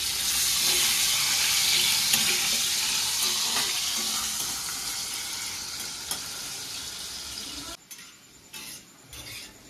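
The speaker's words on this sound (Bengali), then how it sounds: "আলুগুলোকেও লাল লাল করে ভেজে নেব।" Potato pieces frying in hot oil for paneer kosa give a steady, close, loud sizzle and crackle. The sizzle gradually eases, then thins out toward the end amid a few faint clinks.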